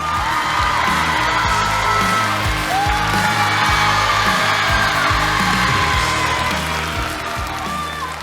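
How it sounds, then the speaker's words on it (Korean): An auditorium of around three thousand teenagers erupts in loud, sustained cheering and whooping to welcome a juvenile court judge, with a thumping music beat pulsing underneath the dense crowd noise. "박수로 맞아주세요"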